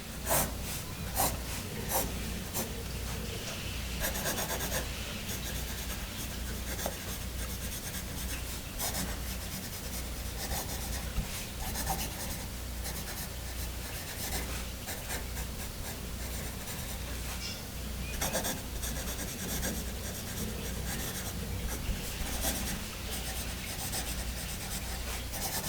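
A Musgrave Single Barrel 106 pencil scratches and rubs steadily across paper, close and continuous, a dry graphite rasp with faint pauses between strokes.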